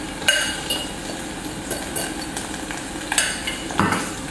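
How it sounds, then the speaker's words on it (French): Onions and potato cooking in a pan while being stirred, with spoon scrapes and clinks against the pan over a steady low sizzle, close and alone without talk. "Alors nos oignons sont en train de cuire. Nous rajoutons notre pomme de terre,"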